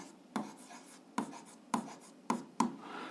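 Pen or chalk strokes of someone writing notes in a physics lesson, five sharp scratchy bursts in an uneven rhythm, close and fairly quiet with no talk.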